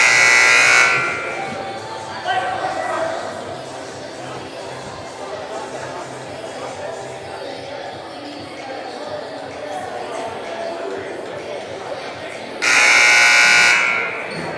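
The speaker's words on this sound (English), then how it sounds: "Let's hope the buzzer doesn't go off at 15 now." A loud electronic buzzer blares at a high school boys' basketball game, once at the start and again near the end, with crowd chatter and gym noise filling the gap between the blasts.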